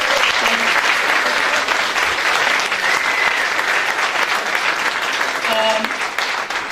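Audience at a Ballyfermot youth service launch event applauding for an honoured staff member, a dense, loud sustained round of clapping from a crowd in a hall, with a voice briefly heard near the end.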